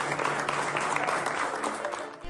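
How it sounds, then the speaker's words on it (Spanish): A crowd at a silent protest by court workers applauds Supreme Court president Norma Piña, a dense patter of clapping that fills the moment without a break. "la ministra Norma Piña, quien ofertaron abrazos y aplausos, quebrando el acuerdo de la manifestación en silencio"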